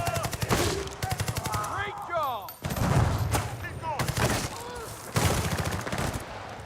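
Rapid gunfire in the shooter game Battlefield 6, a shotgun among the weapons, crackles in dense bursts alongside other battlefield noise, with voices talking underneath in places.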